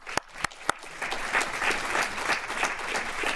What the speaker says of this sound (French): on pourrait vous applaudir.